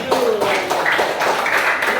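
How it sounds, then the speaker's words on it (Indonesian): Students in a classroom applaud a student group, a dense crowd of claps running steadily throughout, with voices chattering over the clapping. "Tepuk tangan untuk kelompok 7."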